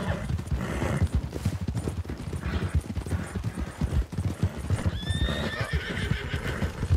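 A horse walking along a foggy trail, steady clip-clop of hooves close by with a whinny partway through, the rider's movement audible alongside.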